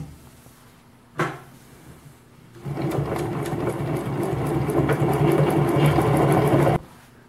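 A Juki LU-562 compound feed walking foot industrial sewing machine makes a sharp knock, then after a pause runs steadily for about four seconds, a loud rapid stitching whir that stops abruptly.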